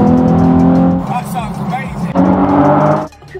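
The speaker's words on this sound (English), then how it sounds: "I can hear your engine through the window" A car engine revs loudly nearby, its pitch rising and falling, heard under and between bits of talk.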